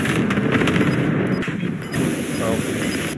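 Airstrike explosions in the video game Call of Duty Warzone roar as a dense, continuous barrage of loud blasts and crackling bursts, with voices faintly underneath.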